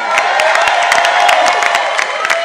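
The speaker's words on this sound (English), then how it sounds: "Give him a round of applause." A live convention crowd at New York Comic Con applauds and cheers, a dense, sustained wash of clapping with a few voices rising out of it, recorded close and loud from start to finish.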